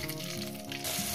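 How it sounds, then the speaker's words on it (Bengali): Rohu fish pieces frying in hot oil in a kadai, a dense, close sizzle and crackle that holds steady and swells slightly toward the end, with no voices over it. "মাছগুলো কড়ার মধ্যে দিয়ে দিচ্ছি, একেবারে ভেজে নিয়ে ফিরছি"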